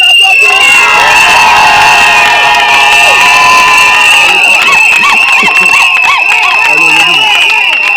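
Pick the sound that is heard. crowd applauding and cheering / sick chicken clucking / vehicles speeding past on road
crowd applauding and cheering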